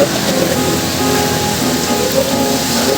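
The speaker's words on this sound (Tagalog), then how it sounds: "Lakas ng ulan to." Heavy rain pours down steadily outdoors during a group motorcycle ride to Daraitan, a loud, dense hiss with no pauses and no voices.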